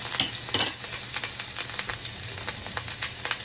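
Minced fresh garlic and ginger sizzle in a very hot pan, a close, steady crackling fry with a few brief stirring scrapes and no talking.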